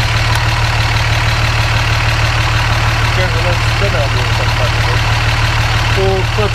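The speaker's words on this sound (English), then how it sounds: "it's warm as fuck, but going into high idle like it's cold" Truck engine running at high idle, a loud, steady low drone with a constant hum that stays even the whole time, with brief faint talk near the end.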